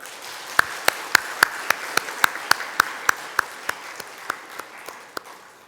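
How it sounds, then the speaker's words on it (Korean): A Korean church congregation gives welcoming applause as rhythmic, unison clapping: about twenty sharp, evenly spaced claps that gradually thin out and slow toward the end. "인사하실 때 환영의 박수 해주시기 바랍니다."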